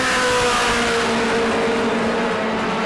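Mod Mini race car engine at New Smyrna Speedway, a loud, sustained droning roar close by, holding a steady pitch with a slight fade toward the end.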